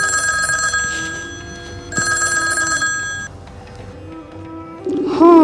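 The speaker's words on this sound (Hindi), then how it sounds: "हाँ घंटी तो जाए है बुझाइए।" A telephone rings in bursts with steady electronic tones, clear and fairly loud, then a brief pause before a voice starts at the end.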